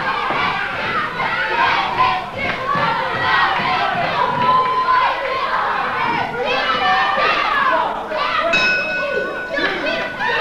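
Crowd at an 1980s Florida professional wrestling match roars and chants in rising waves, loud and dense, with a bell ringing near the end and a commentator's voice under the noise.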